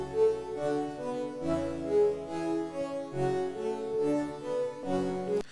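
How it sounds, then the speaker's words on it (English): A music loop played through the SlowMo halftime plugin effect, giving a slowed, stretched groove of sustained tonal chords and bass at a moderate level, with no voices over it. "SlowMo is a halftime effect"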